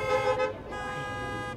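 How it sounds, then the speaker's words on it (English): Air horns honked by fans in a wrestling arena crowd, a steady blaring tone that holds almost throughout, loudest early and continuing over general crowd noise. "We're hearing the horns honk at the World Gym Arena."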